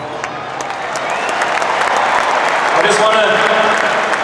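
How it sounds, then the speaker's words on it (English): Crowd applause at the AFL Grand Final between Geelong Cats and Sydney Swans, a dense steady wash of clapping that swells and holds, with a voice talking over it. "Round of applause."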